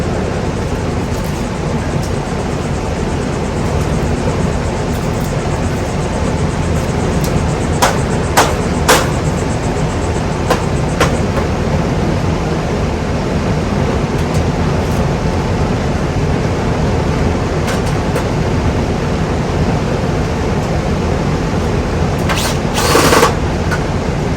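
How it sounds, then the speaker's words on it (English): Power screwdriver driving screws while mounting a replacement fan motor on an outdoor AC condenser, steady mechanical whir with several short sharp bursts of tool noise and a louder burst near the end, no talking. "Now we just got to screw everything down."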